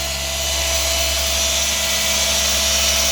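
A power polisher buffs an '87 Firebird Formula 350, giving off a steady, loud electric motor whine with a constant hum and no break.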